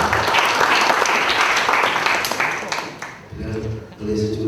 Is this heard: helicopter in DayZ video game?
no